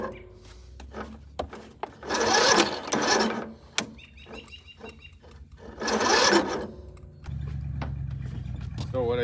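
A John Deere L100 riding mower engine cranks in repeated strained bursts, the starter bogging and stalling as it locks up on compression, loud and close with a steady rumble between attempts and a mechanical whine.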